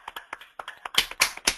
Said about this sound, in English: let's go ahead and give Gyan a warm round of applause